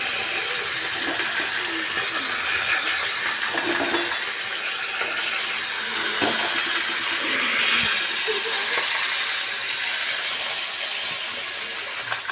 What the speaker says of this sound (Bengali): এখন আমি মাছগুলোকে ভালো করে ভেজে নেব